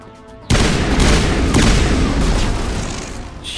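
Heavy, sustained weapon fire from chemical radioactive rounds in the Mass Effect video game, a loud dense roar of shots starting abruptly and continuing without pause.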